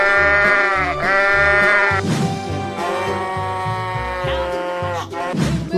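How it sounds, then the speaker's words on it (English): Loud sheep bleats from a 3D animal slide video game come in a few long wavering baa calls over a pulsing musical backing track, with no talk. "Sheep."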